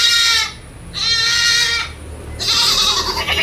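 A large, hornless Malabari cross goat gives three loud, drawn-out bleats close by, each separated by a short pause, with no talking.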